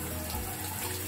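Water streams from a tap during a child's hair wash at home, a steady, close, even rush of running water with no voices.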